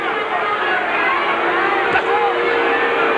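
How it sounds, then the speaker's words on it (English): Restless boxing arena crowd in Memphis, a loud steady murmur of chatter and calls filling the hall, with a commentator's voice running over the hubbub. "Crowd getting unsettled here in Memphis."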